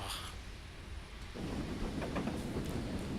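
A K1 steam locomotive crosses a bridge in a train simulator game. A low, continuous rumble swells partway through into a fuller rolling roar with faint rhythmic clatter.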